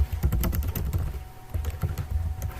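Rapid typing on a computer keyboard, heard up close as bursts of crisp key clicks with a brief pause partway through and no talk.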